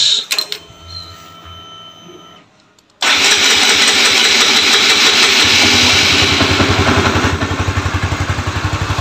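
A 2016 motorcycle engine catches after a few seconds of quieter clicking and mechanical noise, then idles loudly with a steady, rapid pulsing rumble close by.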